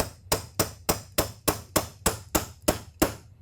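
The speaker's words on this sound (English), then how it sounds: "I'm going to take my hammer and I'm going to tap it down" A hammer taps a Glock channel liner down into the slide, about eleven sharp, evenly spaced strikes close by, each a bright hollow knock until it bottoms out.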